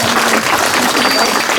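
Applause at the inauguration of a winery's new cellar building during a harvest meal, a dense, steady patter of clapping from a gathered crowd that holds evenly across the whole moment.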